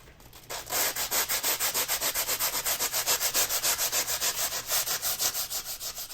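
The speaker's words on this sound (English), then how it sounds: "the process really is nothing more than gently scrubbing away at the alloy wheel and just trying to get it as smooth as you possibly can" Sandpaper of 120 grit scrubbing curb rash on a black Tesla alloy wheel, a steady rhythmic rasp of quick back-and-forth strokes, close and loud, with no talking.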